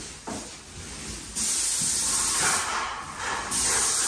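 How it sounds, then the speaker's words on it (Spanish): An airless paint sprayer hisses loudly while spraying oil-based primer onto a ceiling through a 517 tip, its harsh spray cutting in and out in long bursts, with short pauses between passes. "Y ahorita Ani pues está sprayando"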